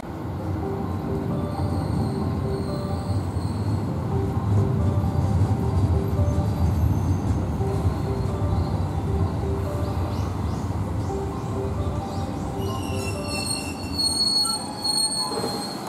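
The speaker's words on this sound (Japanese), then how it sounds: "谷底を列車が走っています。 あの列車は嵯峨野観光鉄道です。" A Sagano Scenic Railway train runs along a valley floor, its wheels squealing steadily on the rails with a constant rolling rumble, heard from a distance at moderate loudness.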